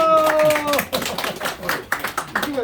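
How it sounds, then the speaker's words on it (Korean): Scattered hand clapping from people at a lecture event for a national unity joint conference, a string of quick irregular claps following a brief shout, with voices murmuring underneath. "박수!"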